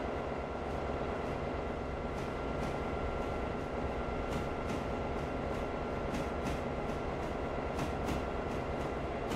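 A mixed freight and passenger train rolls along in the Railroader video game, a constant loud rumble of wheels on track with regular clicking rail joints and no voices.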